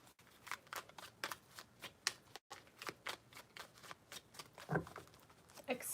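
Tarot cards shuffled in a steady run of crisp riffling bursts, close and fairly quiet, with a brief pause partway and a few sharper snaps near the end.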